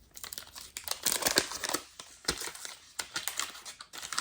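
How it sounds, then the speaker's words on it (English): An old wax pack of Topps trading cards being torn open, with loud, close crinkling and tearing of the wrapper in irregular bursts that run through the whole stretch, no talking. "let's pretend I got this old wax pack of trading cards inside a box of cereal and open it up"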